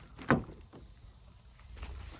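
A sharp mechanical clunk of car door lock actuators, followed by a softer click and faint later thuds in a quiet interior.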